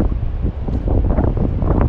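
Strong wind gusts across a seashore during shore casting, a steady loud broadband roar with rustling buffeting the microphone throughout.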